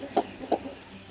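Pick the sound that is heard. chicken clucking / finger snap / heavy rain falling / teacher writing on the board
chicken clucking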